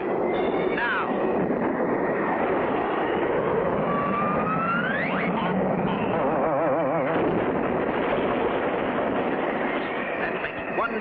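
A cartoon plane's engine roars steadily and loudly at takeoff, with rising whine sweeps and rattling noise throughout and voices faintly under it.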